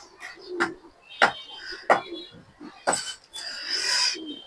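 Colored pigeons coo close by in soft, rounded calls, mixed with brief chirps and a few clinking sounds, moderately quiet throughout.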